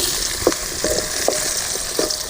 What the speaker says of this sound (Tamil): வெங்காயம் நல்லா சிவந்துக்கிடுச்சு.